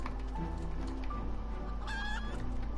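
Chickens clucking in the video game Final Fantasy XIV, a steady stream of short clucks and squawks over a continuous low game-music bed, with a brief higher chirping burst near the end.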